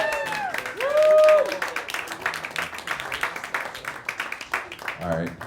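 Comedy show crowd clapping and cheering for a co-host, lively applause with whoops and shouted voices rising over it, and a voice talking through part of it.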